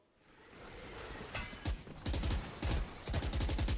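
Rapid bursts of gunfire in a Valorant esports match between 100 Thieves and Sentinels, VCT Americas, starting faint then breaking into loud repeated volleys of automatic shots.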